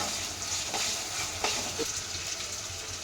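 Ginger garlic paste frying in oil for vegetable fried rice, a constant bright sizzle with a few scraping stirs of the spoon, close and even, with no talking.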